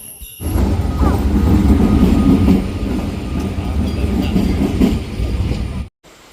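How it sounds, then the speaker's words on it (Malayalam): A train rumbles loudly nearby with a steady rolling roar and faint clatter of wheels, continuous before cutting off abruptly near the end. "അങ്ങനെ ദേ നമ്മൾ ട്രെയിനൊക്കെ കയറിയിട്ടുണ്ട്"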